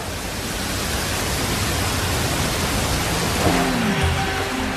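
Steady rain pours over a skyscraper construction site in New York City, a dense, even hiss filling the whole scene with no voices.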